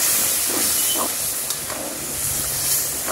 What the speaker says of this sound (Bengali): এবার দিয়ে দিচ্ছে অল্প একটু জল